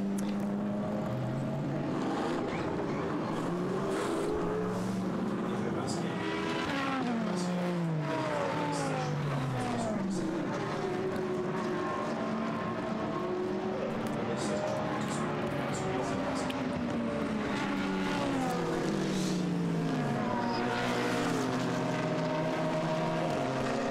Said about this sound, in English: So everybody now pours back out onto the track